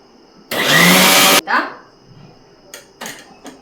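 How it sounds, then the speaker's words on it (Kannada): A mixer grinder powders a mix of Guntur and Byadagi chillies in one loud, dense burst of roughly a second, followed by a rattle as it stops, then light clinks of kitchen handling. "ಇದಕ್ಕೆ ಹಾಕಿ ಒಂದ್ಸರಿ ಪೌಡ್ರ್ ಮಾಡ್ಕೊತೀನಿ"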